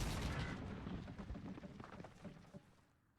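Gunfire in the WWE 2K Battleground video game sounds as a string of faint, distant shots and rumbling bursts mixed with scuffling game noise, without clear speech.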